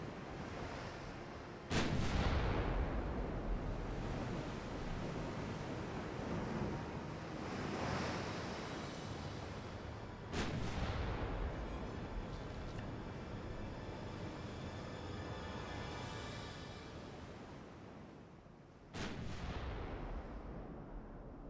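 Warship main guns firing in the naval strategy game Ultimate Admiral Dreadnoughts, heavy booming blasts at three points over a steady rushing bed of sea surf and wind, with no talk.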